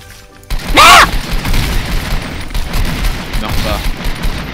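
A pump-action shotgun fires in a first-person video game, one loud close blast with a sharp crack and ringing tail, then ongoing game noise and a fainter second burst.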